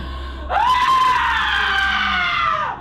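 A person screams during an exorcism: one long, loud, sustained shriek that begins after a brief quiet moment and holds for about two seconds before trailing off.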